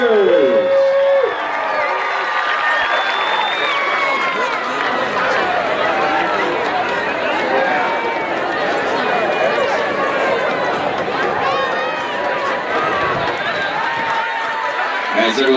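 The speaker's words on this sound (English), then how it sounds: "Fans, how about one more huge round of applause for the 2021 edition of your LOHS Regiment and Cheerleaders." A large stadium crowd at a high school football game cheers and claps for the school's marching band and cheerleaders, a loud, continuous wash of chatter, whoops and applause with shouting voices throughout.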